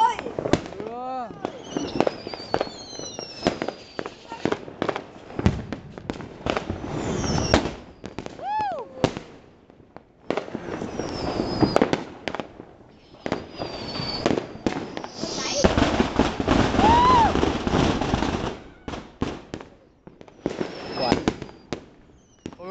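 New Year's Eve fireworks bursting over a hometown, a long run of loud crackling explosions and whistling rockets, some near and some distant, with people talking and shouting among the blasts.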